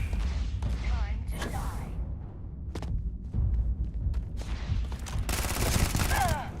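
Gunfire rattles in bursts during a firefight in the space game Starfield, sharp shots scattered across the scene with a dense volley near the end, while a voice talks over the action.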